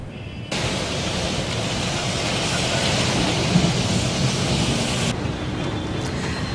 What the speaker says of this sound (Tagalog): nang biglang buhos ang malakas na ulan